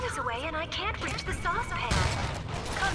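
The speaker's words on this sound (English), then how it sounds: "in close quarters the machine gun really is quite effective" A machine gun fires in close quarters during a fight in the video game Bioshock 2, with the anti-personnel ammo loaded, heard as rapid bursts with loud impacts under enemies shouting and game effects.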